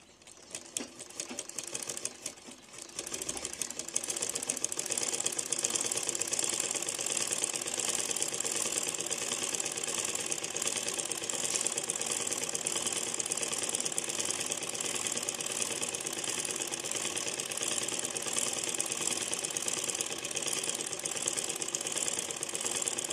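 Sewing machine running steadily while stitching the sleeve of a designer blouse, a continuous fast whirring hum that starts after a brief pause and holds close and loud with no talk.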